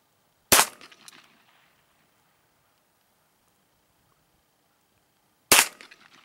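Two sharp pistol-like gunshots fired at a playing card target outdoors, each a loud crack with a short trailing echo, spaced about five seconds apart with quiet between.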